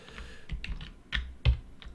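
Keys are pressed on an English-layout computer keyboard to enter a shortcut during video editing in After Effects: a quick run of close, crisp clicks with a few louder taps, with no talk.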